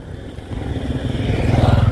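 Several motorcycles pass along a rural road beside rice fields at harvest time, a rising engine drone that grows louder and closer over two seconds, with no talk.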